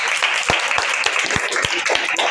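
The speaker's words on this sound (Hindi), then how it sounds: "बहुत जोरदार तालियां" Loud, dense applause from a seated audience at a devotional gathering, many hands clapping together in a steady roar with a few sharper individual claps standing out.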